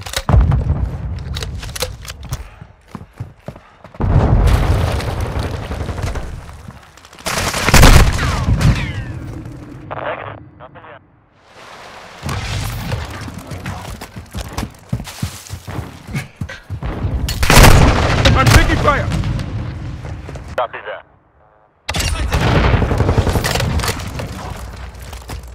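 Heavy automatic gunfire and booming explosions from Call of Duty: Modern Warfare II, loud sustained bursts of shots with brief lulls between volleys, near and dense, with no speech.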